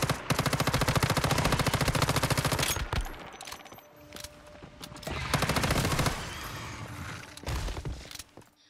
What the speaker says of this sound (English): Feels different actually using a gun for once.